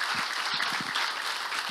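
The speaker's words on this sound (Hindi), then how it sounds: "मैं आपके लिए ताली बजाना चाहता हूँ" An audience at a church gathering claps together in a dense, sustained round of applause, close and steady from start to finish.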